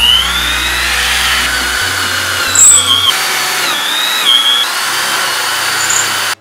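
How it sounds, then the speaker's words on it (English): A power drill bores holes into a baseball bat, whining loudly and steadily with pitch changes as the bit bites into the wood, then cutting off abruptly at the end. "If you notice right now, I've only drilled 7 holes."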